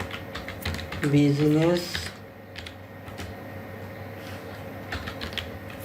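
Quick taps on a computer keyboard in short bursts, close by, as someone speaks briefly over the start before the clicking carries on alone.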